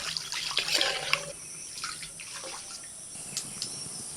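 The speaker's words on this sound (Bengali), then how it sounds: "এবার মশলার মধ্যে জল দিয়ে দিচ্ছি।" Water poured into a pan of fried spice mixture for chicken-stuffed pointed gourd dolma, a brief splashing pour in the first second and a half, then light watery bubbling and small drips.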